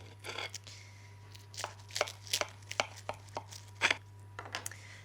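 A knife cuts through the crispy pastry crust of a beef pie in a series of sharp, close crunches and crackles, irregular bursts spread across several seconds against a quiet background with a faint steady hum.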